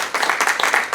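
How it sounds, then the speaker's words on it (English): Brief scattered applause from a lecture audience, a short burst of clapping lasting about a second. "A little applause."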